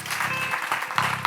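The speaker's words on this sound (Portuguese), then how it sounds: "Aplauda forte a Jesus." A church congregation applauds during a worship service, a dense burst of clapping that briefly dips before surging again.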